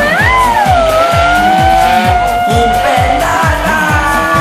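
A video game car pops a wheelie with its engine droning and tires squealing loudly and continuously, and a rhythmic pulsing runs under the high whine.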